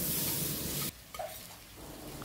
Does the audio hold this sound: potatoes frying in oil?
yes